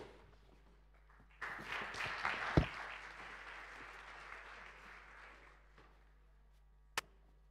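An audience at a stage music event breaks into loud, sustained applause and cheering that swells suddenly, holds for several seconds, then fades. A single sharp knock sounds near the end.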